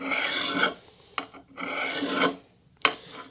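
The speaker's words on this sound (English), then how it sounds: "when you're working with your file, you should feel it sort of grab" A hand file rasps along the edge of a cheap axe blade being sharpened, three separate scraping strokes heard close up with short pauses between them, with no voices.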